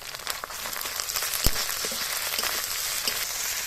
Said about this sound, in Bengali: সব কিছু একটু হালকা করে ভেজে নিয়েছি।